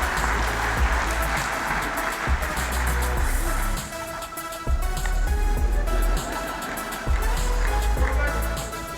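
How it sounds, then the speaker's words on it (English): An audience at the 2022 South Dakota High School Sports Awards ceremony applauds in a loud, sustained wash of clapping that carries on for the full stretch with a brief dip partway through. "Let's give one more round of applause for this year's I Am Sport Award to Isaiah Mulder of Sioux Falls Christian."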